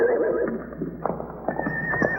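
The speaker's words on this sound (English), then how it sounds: "The horses are going crazy." Horses neigh and whinny in several shrill bursts, with hooves clopping and stamping nearby in between.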